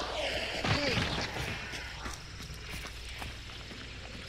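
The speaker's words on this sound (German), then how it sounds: "Hast du auch gerade ein Pferd gehört?" Horse hooves clip-clop in the Hunt: Showdown video game, a dense run of hard thuds and knocks close by over a steady rumbling background, with no talk in between.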